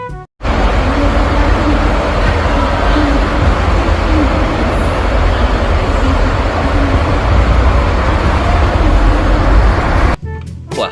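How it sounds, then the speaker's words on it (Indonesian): A swaying bus rumbles along a road, its broad, steady engine and road noise loud and continuous for about ten seconds before cutting off abruptly near the end. "Di sini ada bus oleng."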